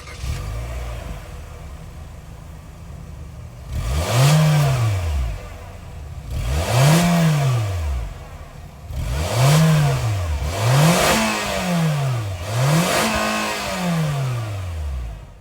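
A 2024 Nissan Versa SR's 1.6-liter four-cylinder engine revs up and falls back five times in a row, each blip rising and dropping in pitch over a steady idle, close by.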